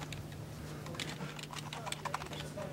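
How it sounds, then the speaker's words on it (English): Computer keyboard typing in a two-player typing game, with quick irregular key clicks under a steady low hum and a speaking voice. "Both players must be typing the same letter, well, the same word, at the same time."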